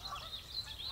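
Geese honk in the morning at a lakeside campground, several faint calls in quick succession heard from a distance over quiet ambient background.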